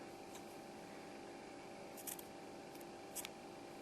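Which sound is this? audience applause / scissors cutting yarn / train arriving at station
scissors cutting yarn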